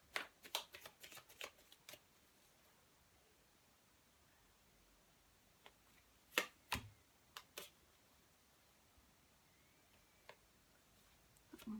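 Chuck Spezzano love cards being shuffled, with quick bursts of riffling at the start and a few sharper flicks later, close and fairly quiet against a still room with no talking.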